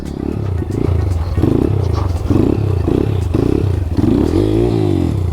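A motorcycle with a newly replaced clutch cable is ridden, its engine throbbing in rhythmic pulses that rise and fall through the throttle, close and loud, with a rider's voice partly over it.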